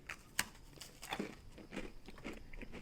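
A close, faint crunch comes from biting into a thin, crisp Tates Bake Shop oatmeal raisin cookie, with a sharp snap followed by a few quieter chewing crunches.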